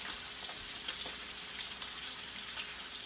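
A ribeye steak sizzles in a hot pan, a steady, fairly quiet hiss of frying with faint crackles and pops, and no voices over it.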